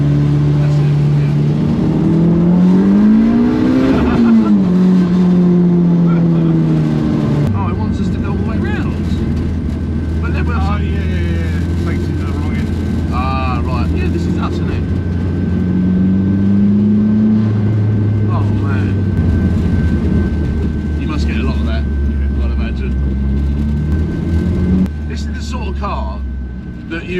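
A turbocharged B18 engine in a Mini Clubman drones and rises in pitch as it revs, loud and close throughout, with people talking over the engine noise.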